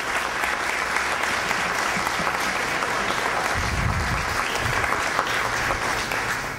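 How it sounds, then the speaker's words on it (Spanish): Sustained audience applause at a civic recognition ceremony for a children's and adolescents' council in Miraflores, Peru, loud and continuous from start to finish with no one talking. "pido el aplauso de todos ustedes"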